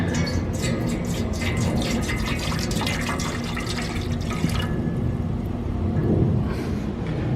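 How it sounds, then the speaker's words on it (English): Three cups of vinegar pour steadily into a pot inside a Sun Oven solar cooker, making a continuous close splashing, trickling stream that tapers off near the end. "we're gonna pour the 3 cups of vinegar in that"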